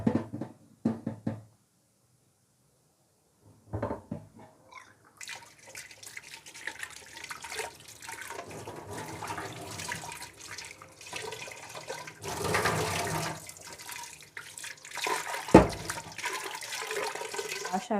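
Water runs and splashes as the drum of a Preethi wet grinder is washed, with rushing tap flow, sloshing and a few knocks of the drum after a short quiet gap.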